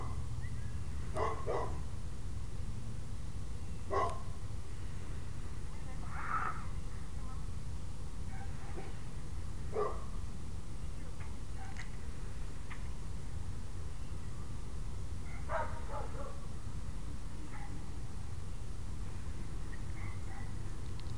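A little dog gives scattered short barks and yips at a distance over a constant outdoor rumble, irregularly spaced and fairly faint.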